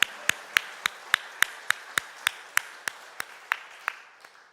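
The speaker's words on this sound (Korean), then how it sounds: "하나님께 영광의 박수 올려드립니다." Sunday service congregation clapping in unison to give glory to God, roughly fourteen sharp, regularly timed claps that hold a steady pulse before thinning and softening over the last second.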